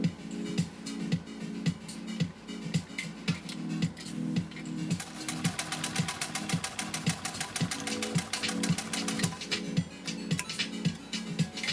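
A 1928 Singer 66-6 sewing machine runs a lock stitch with raised upper tension in a workshop. It makes a steady, rhythmic mechanical chatter that picks up speed into a fast, even whir, with no talking.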